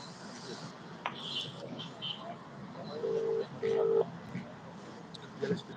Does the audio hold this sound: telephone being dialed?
yes